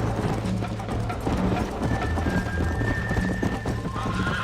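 A horse in Red Dead Redemption gallops with steady clip-clop hoofbeats under a dense, loud game soundscape, and a whinny rises partway through.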